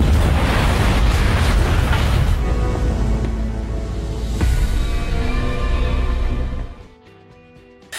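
A bomb blast from the film My Spy, with a heavy rumbling boom and roaring debris that slowly decays over several seconds before cutting to near silence.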